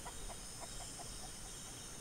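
Chickens in the survival video game Mist Survival cluck in a quick, steady series of soft, faint calls over constant background hiss, with no talking.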